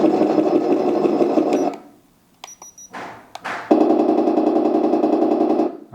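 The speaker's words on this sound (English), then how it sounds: "Machine gun." A 1:16 remote-control toy tank's electronic machine-gun effect plays as a loud buzzing rattle, stops for a few clicks and short tones, then resumes as another sustained burst.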